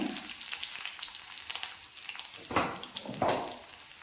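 Crushed ginger and garlic hit hot oil with popped mustard seeds, giving a steady close sizzle with scattered crackles and two louder bursts of spitting near the end; no voices.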